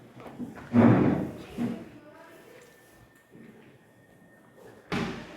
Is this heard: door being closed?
yes